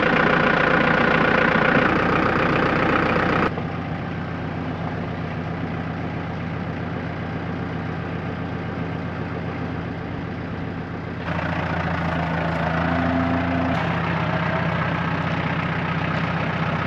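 A farm tractor on a Portuguese homestead, just jump-started from a truck, runs at a steady idle with a deep, continuous engine drone that shifts in level a couple of times, loud and close, with no talk.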